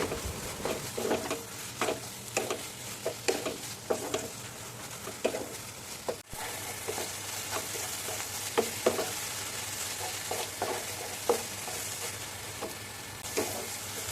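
A paneer filling for momos fries on a low gas flame, a continuous close sizzle broken by regular scraping stirs and spoon taps, with no talking.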